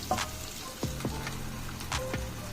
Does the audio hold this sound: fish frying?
yes